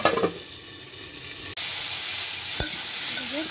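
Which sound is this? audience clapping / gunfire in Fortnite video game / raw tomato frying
raw tomato frying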